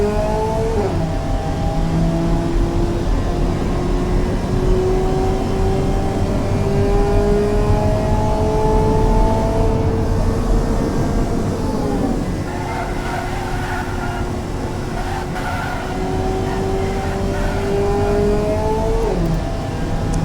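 A 1975 Kard Razor Eco Sport in Automation lapping an airfield test track: a steady engine drone with rising pitch through each gear, dropping at two clear shifts, continuous and close with no talk.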